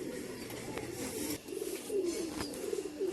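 Pigeons coo repeatedly at a bird keeper's loft in Allahabad, soft rolling calls rising and falling in a steady series, fairly close, with a hiss of background noise and no talk.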